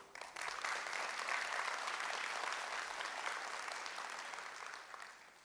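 A large business-event audience breaks into sustained applause, rising quickly and holding dense and loud before slowly tapering off near the end.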